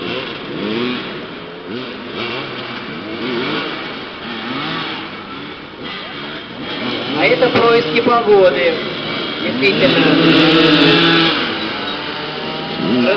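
Motorcycles rev and drone in the background of a motoball match while a commentator talks steadily over the engine noise throughout.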